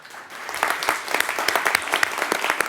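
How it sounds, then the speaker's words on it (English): A round of applause at a city council meeting, a short burst of many hands clapping steadily in a room, fairly close and loud. "Once again, a round of applause for them."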